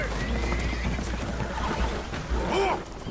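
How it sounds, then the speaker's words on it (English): Spooked horses whinny on a boat taking on water in a video game, with rising and falling neighs over a continuous low rumble of water and background noise. "Horses are spooked, and we're taking on water."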